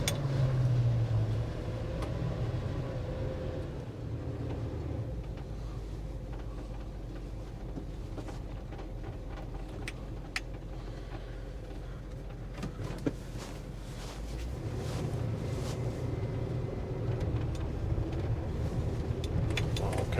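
An old car engine runs with a steady low rumble and a heavy throttle for most of the stretch, then the pitch shifts and eases near the end.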